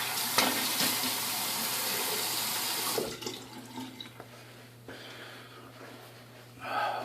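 Water from a tap runs steadily and loudly for about three seconds while rinsing off after a wet shave, then stops, leaving quieter splashes and dripping with short bursts of water toward the end.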